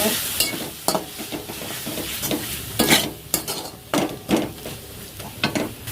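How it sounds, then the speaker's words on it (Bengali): Turmeric, chilli powder, coriander powder and salt stir-fried in a pan with a little water: a constant soft sizzle broken by repeated scraping spatula strokes against the pan, close and irregular, with no talking. "হলুদ গুঁড়ো লঙ্কা গুঁড়ো ধনে গুঁড়ো লবণ ভালো করে কষি নেব"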